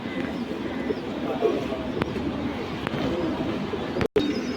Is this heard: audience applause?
no